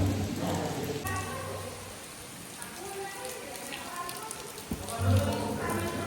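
Steady rain patters on surfaces throughout, with a few voices talking intermittently over the downpour.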